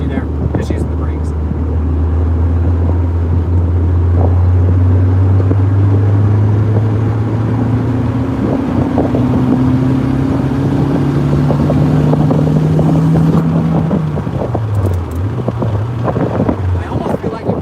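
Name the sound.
Acura RSX turbo engine revving on dyno into boost and VTEC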